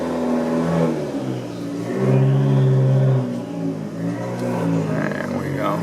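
A Fiat 500 Abarth engine revs and accelerates on the road, heard from inside the car as a loud, buzzy mid-pitched drone rising and falling through gear changes.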